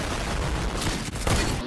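Rapid gunfire in the video game Fortnite, a dense burst of shots packed together over under two seconds, loud and close with no talking.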